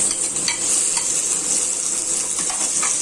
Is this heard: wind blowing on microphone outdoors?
no